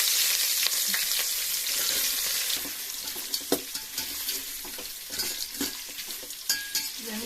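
Onions fry in a pan for chicken biryani, a steady sizzle that grows busier with repeated crackles and stirring scrapes toward the end.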